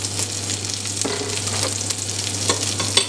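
Yogurt stirred into sizzling chicken rogan josh in a pan, a close, steady sizzle with intermittent scraping and clinks of the spoon.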